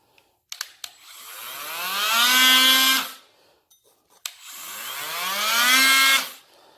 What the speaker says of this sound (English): here we have the Multinator. It's a multi-tool.